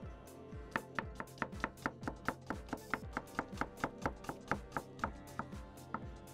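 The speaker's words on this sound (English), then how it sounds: "And then we just slice." A knife slices repeatedly through food on a cutting board in an RV kitchen, with about twenty crisp, evenly spaced chops in a steady rhythm, close and clear with no talking.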